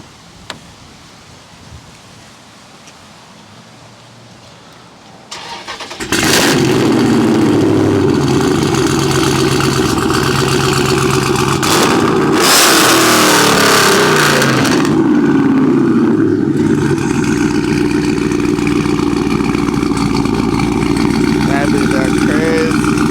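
A Dodge Scat Pack with the 392 engine turns over after a few quiet seconds, then fires up into a loud, deep rumble with a sharp rev surge partway through before settling into a steady idle, with people talking nearby.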